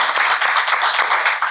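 Loud, close applause from a panel audience at an urban expansion forum, a dense, continuous patter of many hands clapping with no voices over it.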